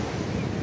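Ocean surf rolling onto the beach at Jeffrey's Bay, a steady broadband wash of breaking waves mixed with wind noise on the microphone, continuous and fairly loud throughout.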